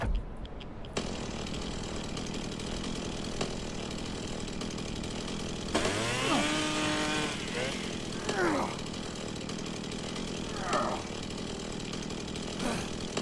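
In the survival game HumanitZ a chainsaw buzzes continuously at a moderate level, its pitch rising and dipping as it revs, beneath someone talking over it.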